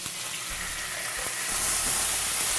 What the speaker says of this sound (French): On va déglacer avec de la vanille.